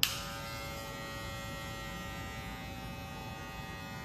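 An electric hair clipper with a mid-length guard runs in a steady, even buzz while trimming wavy hair in an American-style cut, close and continuous with no talking.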